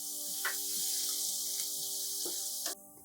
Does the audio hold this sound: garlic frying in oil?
yes